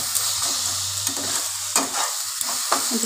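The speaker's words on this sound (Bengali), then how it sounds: "আমি সমানে নেড়েই যাচ্ছি ফুলকপিটা" Cauliflower for a mash frying in plenty of oil, stirred continuously, giving a bright close sizzle broken by repeated scraping strokes, with no talking.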